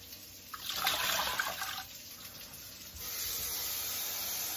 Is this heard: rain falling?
no